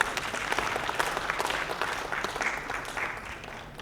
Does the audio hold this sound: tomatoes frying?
no